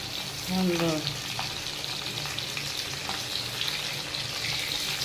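Stuffed food hitting hot oil, a steady broadband sizzle throughout with a brief louder burst near the start as pieces go in, close and continuous, with a voice briefly audible early on.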